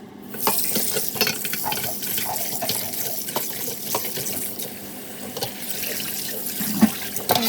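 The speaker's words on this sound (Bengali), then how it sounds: "এখন মাছটাকে ভালোভাবে ধুয়ে নিচ্ছি" Small fish are rinsed by hand under a running kitchen tap, the water splashing steadily while the fish clink and rub against a bowl in quick, irregular knocks.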